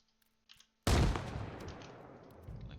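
A single heavy grenade blast in Arma Reforger bursts out after near silence and a faint click, loud and booming, then rolls off in a long, slowly fading rumble.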